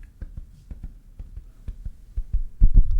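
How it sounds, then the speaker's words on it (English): Muffled heartbeat pulses thud in close, regular pairs, low and soft at first, then swelling into louder, heavier throbs near the end, with no one speaking. "Can you feel my heartbeat?"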